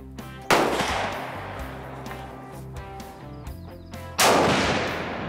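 Two loud rifle shots from a Browning .300 Win Mag bolt-action rifle firing Browning ammunition while sighting in, one at about half a second and another near four seconds, each with a long echoing tail outdoors.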